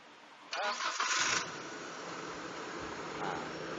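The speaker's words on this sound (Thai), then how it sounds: "เอ้าลองสตาร์ทเครื่องดู" A Nissan Big-M pickup with a carburetor problem cranks for about a second, then catches and settles into a steady, fairly high idle. The engine is close and loud.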